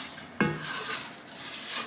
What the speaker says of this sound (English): we're going to scrape down our bowl